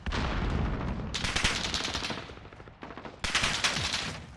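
A video game gunfight with loud bursts of rapid automatic fire, broken by short gaps, with another volley following.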